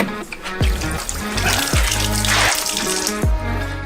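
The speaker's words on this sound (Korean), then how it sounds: "수박을 수도꼭지로 가져가서 흙을 깨끗이 씻어내요." Running tap water splashes and trickles steadily as a watermelon is washed, with a few low thuds as the heavy melon is handled under the stream.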